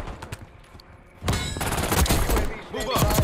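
KSV gunfire in Black Ops 6: a few scattered shots and thuds, then a loud, sustained rapid-fire burst of overlapping automatic fire that keeps going to the end.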